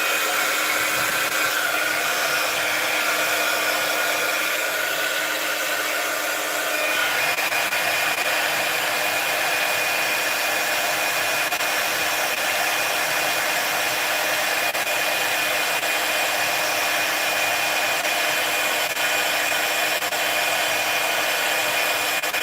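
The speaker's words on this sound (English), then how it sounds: "I'm going to use my heating gun again just to pre-warn you with the heat." An embossing heat gun runs continuously and loud for the whole stretch, a steady close whooshing whine like a hair dryer, with a slight shift in tone partway through.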